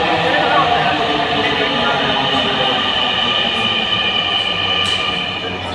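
A Dhaka Metro Rail train rumbles loudly and steadily at close range, with broad, continuous rail noise that holds for several seconds before easing slightly at the end.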